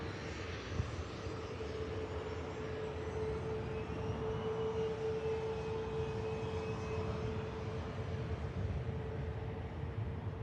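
An Aer Lingus UK Airbus A330 pushes back at Manchester Airport before departing for Barbados, its engine and APU giving a steady, loud drone with a constant whine running throughout and no talk over it.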